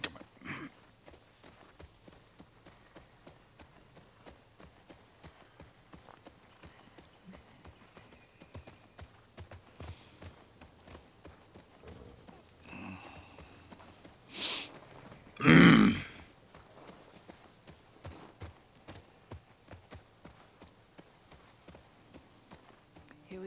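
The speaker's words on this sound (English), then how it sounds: "Come on, horse." Horse hooves clip-clop at a steady walking pace through The Last Of Us Part II, soft and fairly close for much of the stretch, with a couple of louder snorting or whinny-like bursts near the middle.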